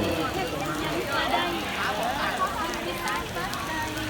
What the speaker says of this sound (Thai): ฝนตกค่ะ หยุดชะงักการซ้อมไปเลย